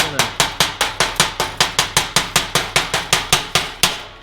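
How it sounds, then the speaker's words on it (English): A chipping hammer knocks cooled welding slag off a steel lap joint in a steady run of about seventeen sharp, evenly spaced metallic taps, loud and close. "We can take our chipping hammer."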